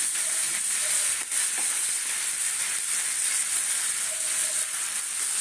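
Onion frying in a pan, a steady, loud sizzle and crackle that continues without a break, with no voices.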